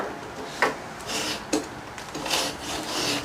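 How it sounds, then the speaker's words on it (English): A carbide scraper dry-scrapes old glazing off a wooden window, making a few rough, rasping strokes close by, each a short gritty scrape against the wood. "you can use a carbide scraper. Dry scrape it."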